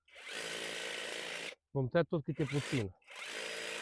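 Power tool trimming an ornamental shrub, its steady buzzing cut running about a second and a half, stopping while someone speaks, then starting again loud and close.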